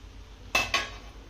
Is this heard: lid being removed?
yes